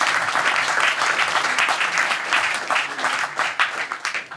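An audience at an evening talk on Ukraine and peace applauds the invited guests, giving dense, sustained clapping from a roomful of people that continues steadily and starts to thin out at the end.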